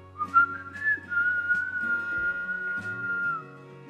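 A person whistles a steady, slow melody alone, with sustained tones and a few short notes.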